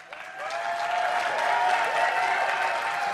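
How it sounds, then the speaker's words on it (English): A home crowd at a League of Legends quarterfinal match claps and cheers steadily, a dense wash of applause that rises quickly and holds for a few seconds. "An applause here for the home crowd."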